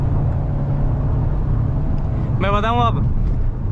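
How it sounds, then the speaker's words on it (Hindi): Petrol automatic Mahindra XUV 7XO AX7L engine while driving, a low, steady hum throughout with a brief stretch of speech partway through. "खाली आपको ना इंजन की सुनाई देती है"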